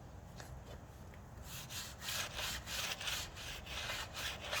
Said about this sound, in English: I like to start by scrubbing the tires first